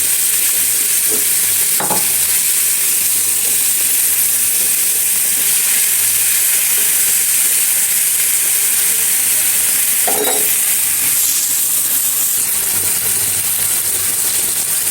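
Small shrimp and small potatoes fry in a pan for a Bengali spinach curry, a loud, steady sizzle and hiss throughout, with a couple of brief stirring scrapes.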